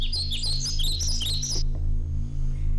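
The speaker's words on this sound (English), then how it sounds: "Oh, birds." Rapid, bright bird chirps and tweets come close and loud for about a second and a half over a steady low hum, then stop.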